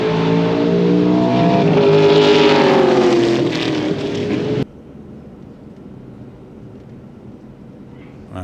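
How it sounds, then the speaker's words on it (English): A 2020 Corvette Stingray sports car passes on a city drive, its loud engine note rising and sweeping by close up for several seconds before cutting away to quieter road noise. "Corvette Stingray. I would suggest that that's the 2020 model."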